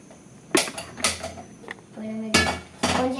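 A metal kadai pan is handled in a home kitchen while ulundhu chutney is being prepared. Several sharp clanks and scrapes of cookware land in a quick, irregular sequence, with some ringing.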